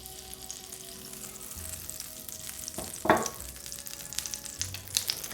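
A tablespoon of butter with a little olive oil melts in a pan for a brandy cream sauce, making a soft, faint sizzle with one sharper clatter midway and a few light clicks afterward.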